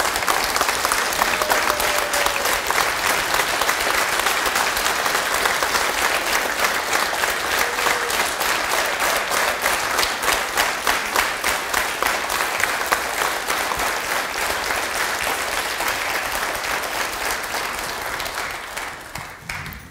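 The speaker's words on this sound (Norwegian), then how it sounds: "kom frem og få din velfortjente" A concert audience at Hammerfest music society's 150th anniversary concert gives a long, dense round of applause that holds steady for about fifteen seconds, then thins and fades out.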